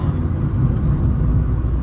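A cheap car driving on a rainy day, heard from inside as a steady, loud low engine and road rumble that holds evenly throughout with no talk.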